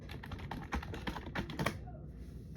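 Someone types a password on a computer keyboard, a quick, close run of soft key taps that stops abruptly, leaving a quiet pause.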